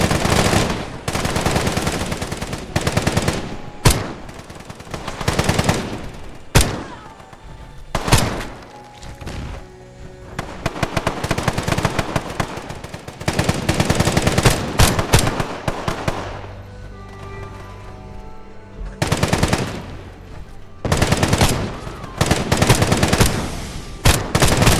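Rapid automatic gunfire from enemy gunners in a post-apocalyptic survival video game, loud dense bursts and volleys of shots with short gaps, continuous through the clip.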